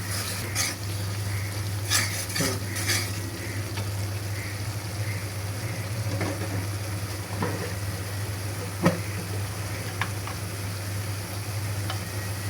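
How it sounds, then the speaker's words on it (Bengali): Spiced liver with chili powder is stirred in a pan over steady, moderate frying sizzle, with occasional light scrapes and clinks of the utensil against the pan. "মরিচের গুঁড়ো দিয়ে এখন আমি এটাকে ভালোভাবে নেড়ে মিশিয়ে নেব"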